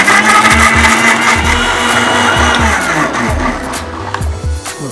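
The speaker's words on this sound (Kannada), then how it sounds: "ಅಷ್ಟರಲ್ಲಿ ನಾವು ಟೊಮೆಟೊನ ರುಬ್ಕೊಂಡ್ಬಿಡೋಣ. ಸೊ ಒಂದು ಮಿಕ್ಸಿ ಜಾರ್ಗೆ" Mixer grinder blending tomatoes in a mixie jar, a loud continuous motor whir and grinding that runs steadily throughout with small pulsing variations, no speech.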